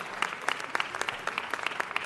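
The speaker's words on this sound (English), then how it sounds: "A big round of applause." A crowd applauds Mr. Edison Wheeler at a city council meeting, the clapping fairly quiet and steady with regular rhythmic peaks, no voices over it.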